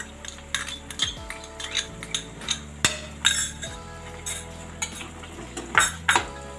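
Ginger and green chili tipped into a pan of fried moong dal fritters for a curry, followed by repeated metal clinks and scrapes of a spoon stirring against the pan, steady and close with background music.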